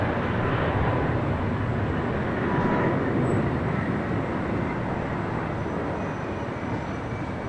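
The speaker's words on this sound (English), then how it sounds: "Got that Air Canada. Flight now taking off, 25 right." An Air Canada airliner takes off from runway 25 right at LAX, a broad, steady jet roar that swells slightly and then eases as it holds on, with no voices over it.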